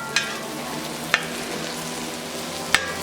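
Broccoli and carrots stir-fried in oil in a pan, a steady close sizzle broken by three sharp clanks of a utensil against the pan, no voices.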